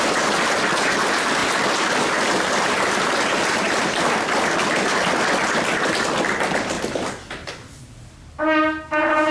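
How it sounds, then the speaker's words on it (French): At a ceremonial chapter gathering in Mouscron, the audience gives dense, sustained applause that fades after about seven seconds, followed by a brief clatter and a short musical tone. "On l'applaudit s'il vous plaît."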